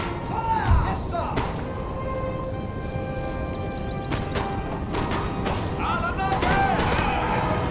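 Musket volley from line infantry in Total War: Napoleon, a scatter of sharp cracks and thuds spread over a steady battlefield din, with a louder burst near the start and voices in the mix.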